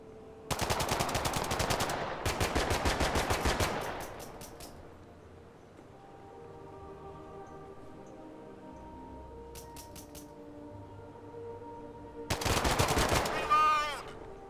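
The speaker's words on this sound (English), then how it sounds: "Come on, boys, just shooting" Rapid bursts of automatic gunfire ring out up close: two long volleys in quick succession, a quieter stretch with a steady low hum, then a final loud burst, with a faint voice near the end.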